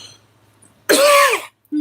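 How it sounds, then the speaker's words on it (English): A single short, dry throat-clearing cough from a nearby person, loud and abrupt after a quiet moment, followed by a brief start of another sound at the end. "I've got a dry cough."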